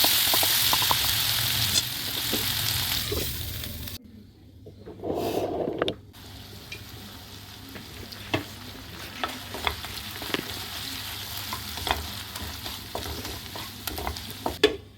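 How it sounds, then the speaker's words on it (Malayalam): Biryani masala for chicken biryani is sautéed with salt and turmeric, with a crackling sizzle and repeated scraping stirs, a short hush near the start, then busy spatula strokes against the pan. "നമുക്ക് ഉപ്പും കൂടി ഒഴിച്ചതിന് ശേഷം നല്ലതായിട്ടൊന്ന് വഴറ്റി കൊടുക്കാം."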